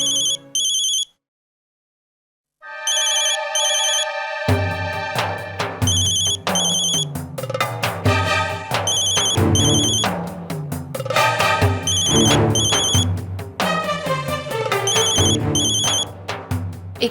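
A mobile phone left behind rings with a loud, repeating electronic melody, bright chiming tones cycling steadily after a brief pause, with no voices over it.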